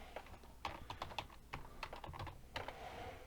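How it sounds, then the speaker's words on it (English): Fast, uneven typing on a computer keyboard, a steady run of close, crisp key clicks with a few louder strokes, heard alone with no talking. "type in the word critical"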